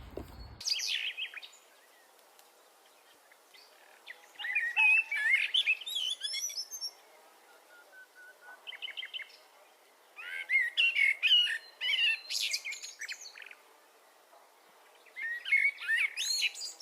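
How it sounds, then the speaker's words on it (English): Several birds chirp and tweet outdoors in repeated bright bursts a few seconds apart, with quieter gaps between the calls and no talking. "Can you hear the birdies?"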